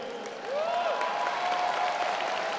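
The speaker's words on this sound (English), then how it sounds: "Could you give me more applause to encourage me" An audience at a conference speech breaks into applause, a dense steady patter of many hands clapping at moderate distance, filling the room for a couple of seconds.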